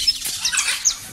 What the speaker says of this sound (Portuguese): As araras ficam naqueles coqueiros ali, ó.